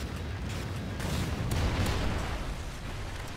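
A Trinity rocket strike in Call of Duty: Ghosts, heard as a sustained loud rumbling blast with crackling bursts, a dense roar that swells in the middle and holds steady without any voices.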